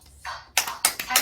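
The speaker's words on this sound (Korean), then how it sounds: "살아계신 하나님께 우리와 함께 하시는 하나님께 감사 박수 드리겠습니다" Congregation at a Korean church worship service clapping in thanks to God, a short burst of hand claps rising in a few quick swells, moderately close, with no talk.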